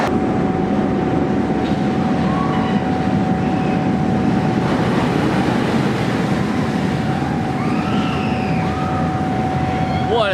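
An X2 roller coaster train at Six Flags Magic Mountain rumbles along its track with a steady, loud mechanical roar and a constant high whine, while faint shouts and screams rise briefly over it.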